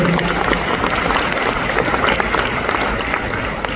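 An audience at an Amway recognition event in Kuala Lumpur claps together in sustained, dense applause, a loud crowd of hands with some voices mixed in.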